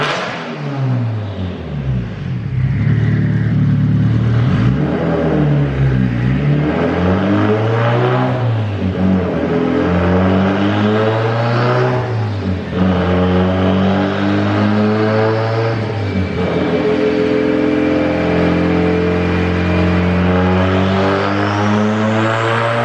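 A turbocharged Mazda Miata engine on a dynamometer, loud and close, revs up in long sweeping pulls with rising and falling pitch, holding a strong, sustained roar throughout.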